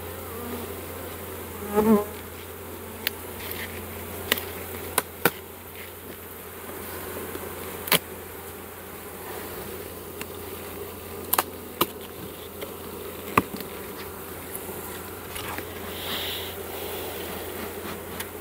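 Honeybees buzz in a steady, dense drone at an opened beehive during removal of a pre-winter treatment, with a few faint clicks and handling knocks scattered through.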